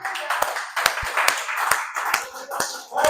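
Congregation clapping during a Spanish-language church sermon, a steady patter of many hands with sharper individual claps standing out, fairly close, with voices mixed in.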